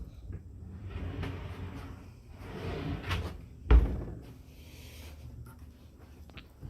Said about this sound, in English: Alright, here are your drawers